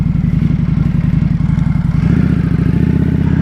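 A 2025 Indian Scout Bobber motorcycle rolls through downtown Clermont, Florida, its engine a steady, loud low rumble close by with rhythmic pulsing, no talk over it.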